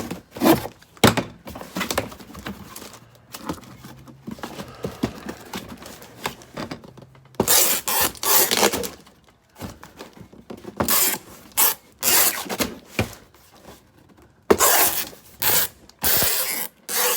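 Cardboard being cut and handled while shaping a custom shipping box, with repeated rough scraping and rasping bursts in short bursts separated by pauses, close and fairly loud.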